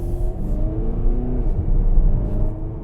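A 2018 Volkswagen Arteon diesel engine runs with a steady low rumble and hum, close by, with no talking.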